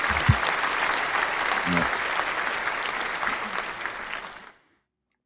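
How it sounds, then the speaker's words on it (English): A short burst of dense clapping from a small group runs steadily for about four seconds and then stops abruptly, with a brief spoken word near the start. "Oh, that's worthy of a clap."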